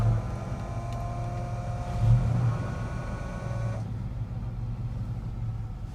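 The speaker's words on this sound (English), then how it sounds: "Start up good and it's idling." A chipping truck idles steadily after a cold start, its low engine rumble and faint whining tones holding even and close throughout, with a small surge near the middle.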